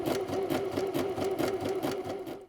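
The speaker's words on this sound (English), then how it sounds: "I'm matching the edge of my elastic with the 5/8 seam allowance line on my sewing machine." A sewing machine runs steadily while stitching an elastic waistband with a zigzag stitch, its rapid rhythmic needle clatter and motor whir continuous and close before slowing to a stop at the end.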